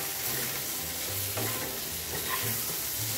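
Chana dal pitha batter is stirred in a pan, a dense continuous wet sizzling hiss with soft scraping from the spoon and low hum underneath, fairly close and steady.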